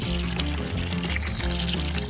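Water pours steadily into a basin, a continuous close gushing splash with no break and no voices.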